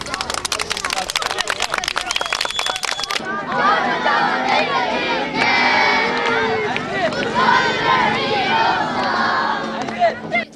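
Crowd of children clapping and singing along with a police band playing guitar, saz and tambourine at a mini street concert, lively shouting voices and rhythmic claps, with a burst of sharp rapid clapping at the start.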